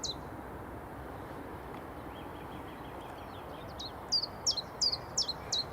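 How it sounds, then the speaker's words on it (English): Birds chirp in short, bright bursts near Newcastle International Airport, sparse at first and then a quick series of calls toward the end over a soft background hiss. "Hear the birds chirping"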